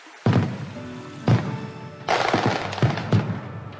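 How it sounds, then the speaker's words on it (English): Fireworks bursting in The Labyrinth of Grisaia visual novel, a series of sharp loud booms with crackling tails, four or five blasts in quick succession, close and without speech. "Fireworks!"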